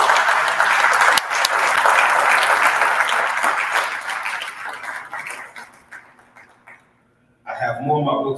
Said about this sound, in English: Y'all clap it up for this young man.